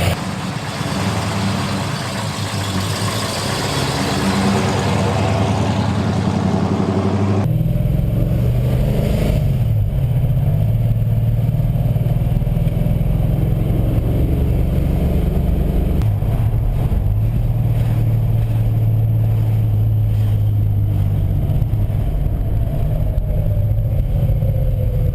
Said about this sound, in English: Smooth idle. That's your cold start.